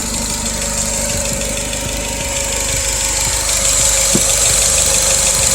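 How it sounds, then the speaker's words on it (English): A 2009 Acura RDX SH-AWD engine with a new Magnaflow downpipe and Thrush muffler idles steadily and loudly up close, a low continuous rumble with a slight knocking pulse and no talking. "she's idling good."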